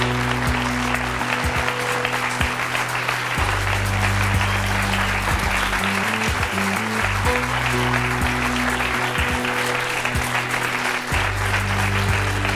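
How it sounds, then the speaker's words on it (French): A television studio audience applauds as two guests, Sandre and Carole, are welcomed on a French talk show, with steady, loud clapping over a low music bed for about twelve seconds. "Je vous demande d'accueillir et d'applaudir nos deux premières invitées, Sandre et Carole."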